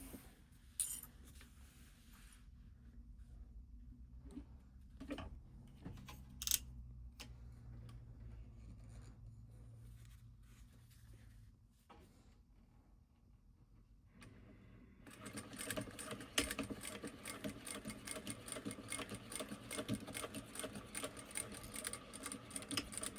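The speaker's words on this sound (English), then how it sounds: "we will be top stitching right here" A sewing machine top stitches fabric, quiet overall: scattered light taps and clicks first, then, after a short lull, a steady run of rapid mechanical stitching ticks to the end.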